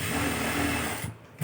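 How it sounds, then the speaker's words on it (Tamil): Sewing machine running a double stitch on a chudithar, a close rapid mechanical whir that runs steadily and then stops near the end, followed by a brief clunk. "பாருங்கள், டபுள் ஸ்டிச் நம்ம இதுலேயும் போட்டுக்கலாம்."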